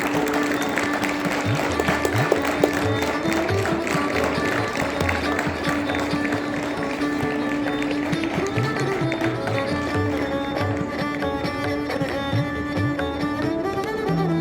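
An audience at a school art exhibition claps in sustained, dense applause, loud and close, continuing steadily without a break throughout, with a low musical tone underneath.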